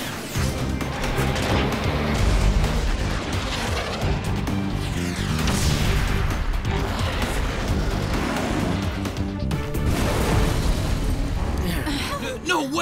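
A cartoon robot fires its Rocket Punch, setting off a dense, continuous barrage of booms, bursts and crashing blasts under excited character voices, loud and chaotic throughout.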